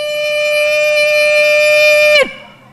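Maghrib siren sounding to mark the end of the daily Ramadan fast: a loud, steady, sustained wailing tone that holds level for about two seconds and then abruptly drops off.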